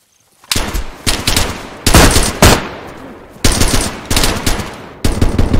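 Loud, close automatic gunfire in the survival game DayZ comes in repeated bursts separated by short pauses, each burst a rapid string of sharp shots.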